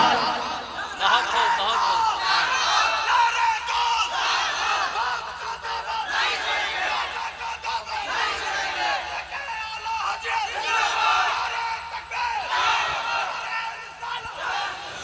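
A crowd at a Hindi-Urdu religious gathering chants the Takbir slogan together, loud massed voices rising and falling in waves that carry on through the whole stretch.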